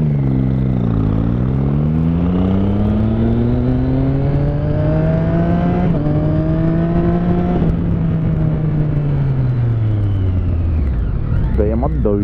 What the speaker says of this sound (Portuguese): Respeitar, vem um carro.